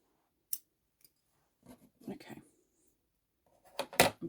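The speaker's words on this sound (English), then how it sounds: "Actually, I have some scissors here, so let's use the scissors." Scissors snip through crochet yarn a few times close by, short crisp cuts spaced out among quiet pauses, with a person speaking briefly in between.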